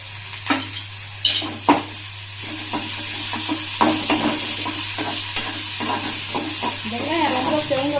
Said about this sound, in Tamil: வெங்காயம் ரொம்ப செவங்க வறுக்க வேண்டாம்